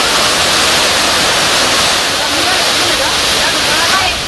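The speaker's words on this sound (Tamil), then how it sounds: "மெயினருவி, சினிபால், சைந்தருவி உள்ளிட்ட அருவிகளில் தண்ணீர் கொட்டுவதும் குறைந்துள்ளது." Hogenakkal waterfalls on the Kaveri river roar steadily, a dense, loud rush of falling water that fills the whole stretch without a break.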